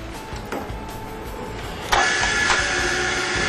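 A lathe turns a 3-jaw chuck at a slow 80 RPM, giving a steady mechanical hum with faint repeating ticks, plus a sharper clack partway through before the running noise continues.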